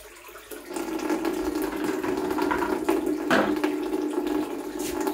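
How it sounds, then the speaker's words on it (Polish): Soft water runs steadily from a tap into a container, a continuous rushing splash heard close up and alone. It is being filled for an aquarium setup while the prefilter lid of an Aquael Ultramax 2000 canister filter is replaced. "To tutaj sobie napuszczamy wody."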